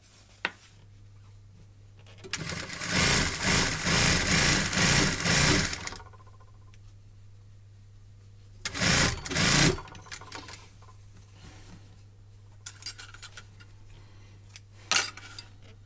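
A sewing machine stitches a notched collar in two bursts, a long run of about three seconds and then a brief second run, with quiet handling of the fabric between them.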